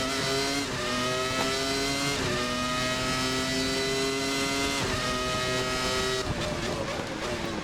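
Williams FW19 Formula 1 car accelerating hard out of the final corner at Jerez in a racing sim, its high-pitched engine screaming steadily upward through several gear changes, loud and close.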